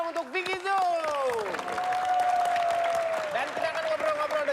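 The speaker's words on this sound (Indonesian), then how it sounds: "Tepuk tangan dong untuk Vicky Zoo." Applause and crowd noise swell behind a voice speaking over it, the clapping dense and steady as the talk continues.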